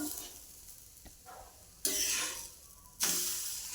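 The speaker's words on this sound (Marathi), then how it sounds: "आता दोन्ही बाजूनी आपण असं मस्त खरपूस पराठे भाजून घेऊया" A cabbage paratha fries crisp on a hot pan with a little oil, giving a steady low sizzle that flares into two louder hissing bursts, close by.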